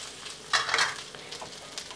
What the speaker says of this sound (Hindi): प्याज और बोमिल को 1 से 2 मिनट के लिए फ्राई कर लेते हैं